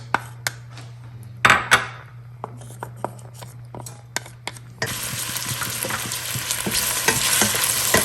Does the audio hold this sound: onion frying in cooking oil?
yes